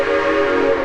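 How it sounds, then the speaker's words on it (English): Steam train whistle at Silver Dollar City theme park in Branson, Missouri sounds one sustained, steady tonal blast, loud and fairly close. "that train."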